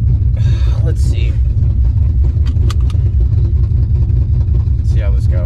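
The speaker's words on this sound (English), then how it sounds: "I'm gonna see if I can't take the car just around the block for a second, just to see how it's driving." A Ford Mustang's engine running while driving, a loud steady low rumble close up from inside the car, with brief squeaks and clicks over it.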